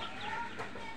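Chickens let out into an open field cluck and call close by in a steady, busy chorus, with no talk over them.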